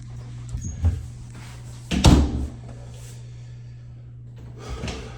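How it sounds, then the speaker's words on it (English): A bathroom door swings shut with a single firm thump near the middle, preceded by a light knock and faint handling sounds in a quiet room with a steady low hum. "Door's got some screws in it that need to come out, but it does close okay."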